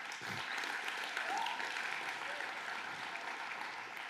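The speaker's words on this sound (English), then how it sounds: "Give them a big round of applause." An audience at a tech keynote in Los Angeles gives a big round of applause, a broad, continuous, fairly distant roar of clapping with a brief whoop rising in the middle.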